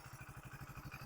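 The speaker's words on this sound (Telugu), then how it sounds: "సో ఇది ఈ బైక్ యొక్క ఎగ్జాస్ట్ నోట్ అయితే." 2024 Hero Splendor Plus 01 Edition single-cylinder motorcycle idling, a faint, steady low exhaust thump with an even, rapid pulse and nothing else over it.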